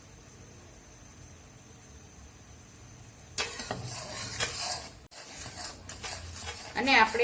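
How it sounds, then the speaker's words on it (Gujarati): Adadiya pak mixture being stirred in a pan, starting quiet with a steady faint hum, then turning into loud close scraping and sizzling stirring that pauses briefly and resumes, with a short spoken phrase over it. "ધીમે ધીમે હલાવતા જશું અને આપણું જે મિશ્રણ છે એ એડ કરી દઈશું"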